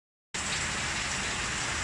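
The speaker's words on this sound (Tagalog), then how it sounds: "Ulan na ulan." Heavy rain pours down steadily and loudly, a dense continuous hiss that starts abruptly and holds with no talk over it.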